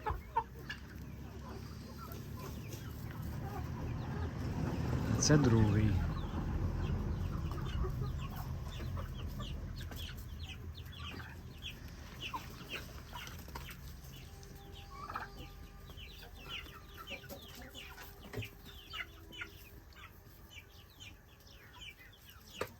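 Soft chirping and peeping of young turkey poults and chicks scattered throughout, with a low rumble early on and a brief voice in the background.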